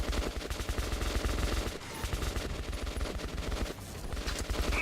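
Rapid bursts of automatic gunfire fill a firefight in Metro 2033 Redux, dense and continuous with short pauses, loud and close throughout.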